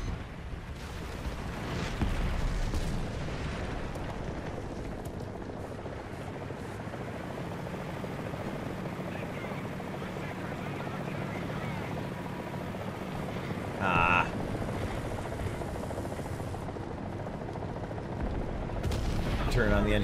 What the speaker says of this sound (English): That's a helicopter. Yep.